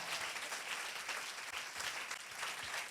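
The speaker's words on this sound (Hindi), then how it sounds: "तालियां इतने बजाए कि आपका ईमान कहे हाँ ऐसा ही है।" Church congregation applauding during a sermon, sustained dense clapping from many hands, even and fairly distant-sounding across the whole stretch with no voices standing out.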